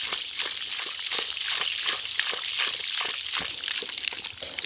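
Water from a garden hose runs and splashes in a steady, pulsing trickle outdoors, heard up close with no talking over it.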